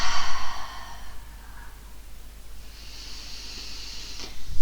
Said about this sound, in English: Take a breath in here and exhale, release.